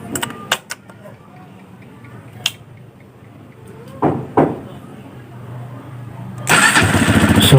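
A Honda XR200 motorcycle with a faulty starter carbon brush gets cranked after several clicks and knocks. A brief starter whir comes first, then the engine catches into a loud rough running noise near the end.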